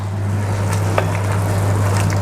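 A braise with tomato puree simmering in a pan, a soft steady sizzle and bubbling with a low constant hum beneath and a faint scrape or two, close and continuous.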